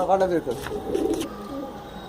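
A fancy show pigeon with milk-white eyes coos a few soft, low rounds close by, with someone talking over the start.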